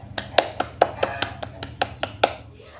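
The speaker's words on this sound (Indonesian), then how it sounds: "Tepuk tangan untuk kita semuanya." Children in a classroom clap in about a dozen sharp, separate claps spread over roughly three seconds, fairly close, over a low background hum.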